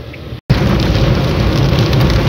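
Dense, steady heavy rain roars across the whole clip in Murree after a brief dropout, a loud broadband wash with no voices.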